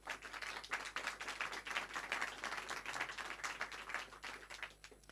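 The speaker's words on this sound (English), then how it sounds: "I think this deserves an applause." Steady applause from a crowd at a panel discussion on air quality at an Expo, dense clapping throughout that tapers slightly near the end.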